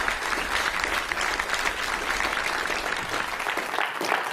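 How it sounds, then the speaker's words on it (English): An audience at the FOSI 2023 European Forum applauds the event's volunteers, a dense, steady clapping that fills the room from start to finish without a break. "a huge round of applause for those guys too"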